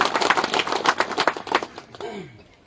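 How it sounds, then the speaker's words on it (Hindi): A crowd at a political rally in Udaipur village breaks into a burst of hand clapping, dense and brisk for about two seconds before it thins out and stops. "उन लोगों के लिए एक ताली तो जोरदार होना चाहिए और आप लोग जोरदार ताली करवाइएगा"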